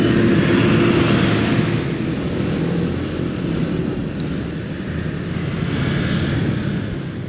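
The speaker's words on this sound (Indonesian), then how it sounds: "Ada truk besar yang putar balik." Large truck making a U-turn at a city intersection at night in Semarang, a low engine rumble blended with steady surrounding traffic noise for several seconds, with no voices.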